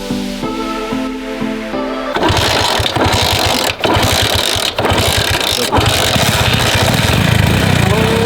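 An old scrap motorcycle at a scrapyard is started after a brief tonal hum, its engine catching and running loudly in rough, pulsing bursts close by.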